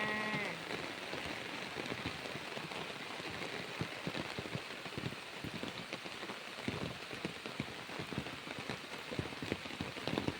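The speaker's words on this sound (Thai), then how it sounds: "ฝนกำลังตกหนักเลยนะคะ" Heavy rain falls steadily along a rural fence line in Thailand, a dense, constant patter and splash on surfaces close by, unbroken throughout.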